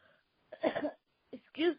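A person coughing in a short fit, two harsh bursts close to the microphone separated by a brief pause, the second rougher and more voiced.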